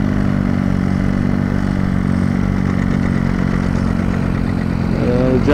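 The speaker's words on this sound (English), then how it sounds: "John Deere, this looks like a diesel." A diesel John Deere tractor runs nearby at an antique tractor plow day, a steady clattering chug with a slight rev near the end, and a voice talks over it.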